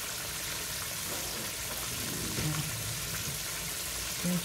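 Fish pieces fry in a pan of oil, a soft steady sizzle heard close but quiet, with faint bubbling and no talk.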